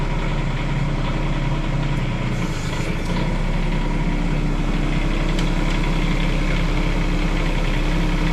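Bobcat E10 mini excavator engine running steadily at idle throughout, a loud, continuous low diesel rumble with no talking.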